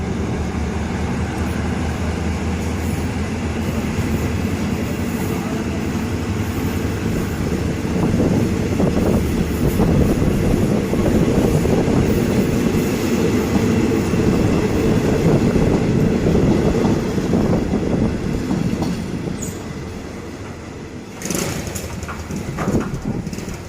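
A passenger train rumbles steadily with a loud, continuous roar and faint rhythmic clatter, slowly easing off near the end as it departs a station.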